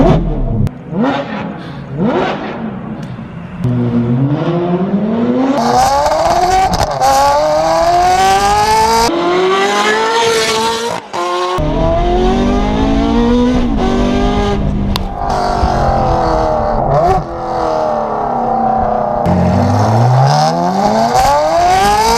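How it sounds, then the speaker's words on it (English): A Ferrari F430 engine screams through repeated hard accelerations, pitch climbing through the gears with brief drops between shifts, loud and close. "I think we do a couple accelerations."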